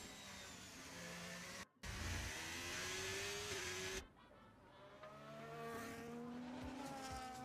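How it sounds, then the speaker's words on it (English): The number 13 Ferrari race car pulls out of pit lane in a racing video game, engine revving and whining through rising gear changes, loud and close with a brief dropout and a shift in tone partway. "It is a Ferrari, the number 13 Ferrari, which I happen to know is Marcy."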